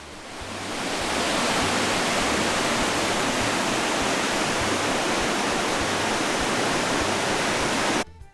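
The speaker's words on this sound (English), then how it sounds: "They actually have a river that runs right through town." A river rushing through town in Jaffrey, New Hampshire, makes a loud, dense, steady roar of flowing water that fades in over the first second and cuts off abruptly near the end.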